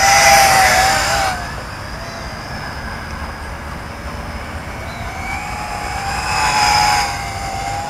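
A Tarantula X6 quadcopter drone races past at full speed, tilted steeply forward. Its high, whining motor pitch sweeps in loud and close, fades to a softer hum, then comes back in a second pass.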